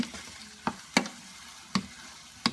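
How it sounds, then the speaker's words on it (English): Scrambled eggs with cauliflower stirred in a pan, a soft steady sizzle of frying with four sharp spatula scrapes and clinks against the pan spaced irregularly, close and fairly quiet, no talk. "just mixing up the scrambled eggs so we can have potatoes and egg"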